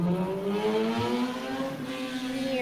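A motorcycle engine revving sound effect, a loud, close whining drone whose pitch climbs and wavers steadily.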